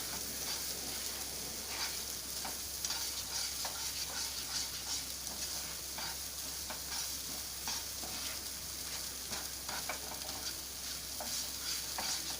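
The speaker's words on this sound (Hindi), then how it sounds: "इसको थोड़ा फ्राई कर लीजिए। गैस मीडियम रखिएगा।" Paneer pieces fry in oil over medium heat for kadai paneer with already-fried onion and tomato, a constant dense sizzle with light stirring scrapes throughout, close and without talk.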